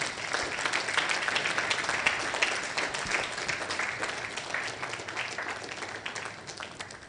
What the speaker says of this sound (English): I believe we can still continue with a clap. Let's give it up.